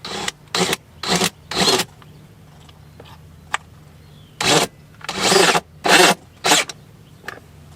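A power drill on full power whirs in repeated short bursts into very hard wood, each lasting about half a second, with pauses between. It is fairly loud and close, with no talking.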